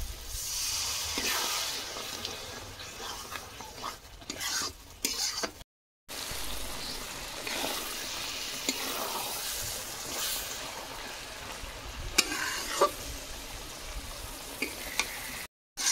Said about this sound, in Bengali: মশলা তলায় বসে যাচ্ছে, জল দিচ্ছি।